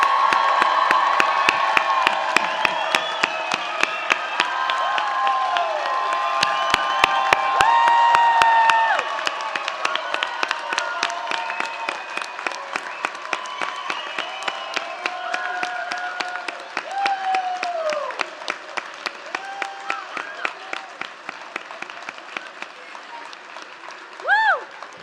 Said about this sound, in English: Let's hear it one more round of applause for all the amazing graduates